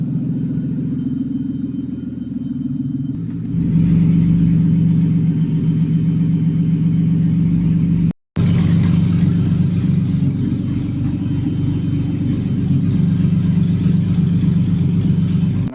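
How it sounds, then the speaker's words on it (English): A BMW E36 engine with an exhaust leak idles with a low, steady rumble and a raspy, puffing exhaust note, close and loud, briefly cutting out for a moment midway. "I have a exhaust leak somewhere."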